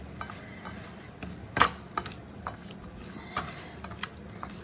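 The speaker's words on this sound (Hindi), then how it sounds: "अब आप इन सारों को मिक्स कर दें, ऐसे ऐसे करके मिक्स कर दें।" Soft, wet squelching and stirring noises with a few sharp clicks, quiet and close, as a garlic marinade is mixed into prawns by hand.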